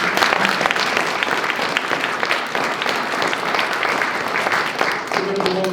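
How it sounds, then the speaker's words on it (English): An audience at a university history department recognition ceremony gives the students a full, steady round of applause, dense and continuous from start to finish with no talking. "So a round of applause for all of our students."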